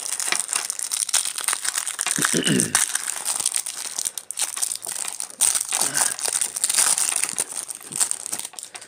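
A foil Yu-Gi-Oh Speed Duel Battle City booster pack of Egyptian god cards gets torn open. The wrapper makes continuous close crinkling and crackling, with a brief tearing rip partway through.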